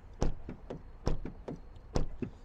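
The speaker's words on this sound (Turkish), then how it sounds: "kapı seslerimiz bu şekilde arkadaşlar." Doors of a Peugeot 5008 SUV shut in a series of sharp, solid thuds, about eight close knocks spaced roughly a quarter to half a second apart, with no talking.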